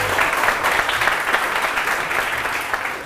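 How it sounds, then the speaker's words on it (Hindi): A television morning show's studio audience claps in a sustained, even wash of applause, close and moderately loud, with no talking on top. "बहुत सारी तालियां मिसेस सलमा आसिम के लिए"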